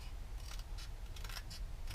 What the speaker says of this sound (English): back to the scissors again